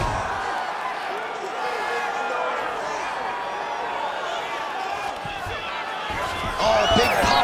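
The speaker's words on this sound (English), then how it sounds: "big pop from the crowd as they get back to their feet after a pretty scintillating grappling battle there on the ground" A crowd in the UFC 5 fighting video game roars steadily as the fighters get back to their feet after ground grappling, with commentary voices running over the cheering.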